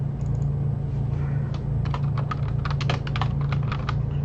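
Fingers tap out text on a computer keyboard, a quick irregular run of light clicks that starts sparse and gets busier, heard alone over a soft steady background hum.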